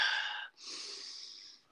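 A voice imitates another man sniffing in through his nose, making two long, breathy inhaled snorts close to the microphone with a short pause between them.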